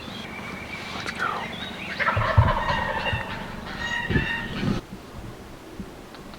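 A wild turkey gobbles in the woods, several clear gobble calls rising mid-clip at moderate distance, over quiet outdoor background.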